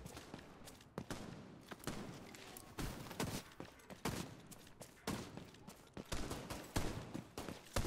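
Enemies open fire in The Division 2 shooter game, producing rapid bursts of gunfire that crack repeatedly at a quiet, somewhat distant level, with irregular clusters of shots throughout.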